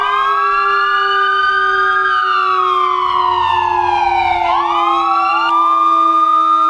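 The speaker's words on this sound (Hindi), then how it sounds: "एम्बुलेंस व फायर ब्रिगेड के सायरन।" Police, ambulance and fire brigade sirens wail together, loud and close, with overlapping rising and falling tones that sweep steadily and shift pitch midway, sounding alone without voices.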